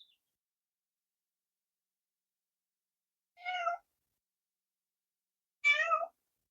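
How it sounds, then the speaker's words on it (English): A cat meows to be let outside, giving two separate plaintive cries a couple of seconds apart in an otherwise silent room. "That's the cat who's crying right now to go outside."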